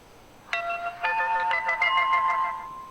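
A bright electronic phone notification alert plays, a short rising chime followed by a series of quick tonal pings that ring out for about two seconds, clear and close with no talking.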